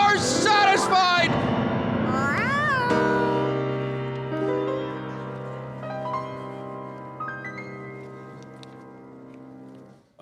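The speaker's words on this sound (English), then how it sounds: "I hope that black cat doesn't cross my path tonight." A black cat meows repeatedly as a radio drama sound effect, its rising and falling cries loud and close over a sustained musical drone that carries on after the meows fade.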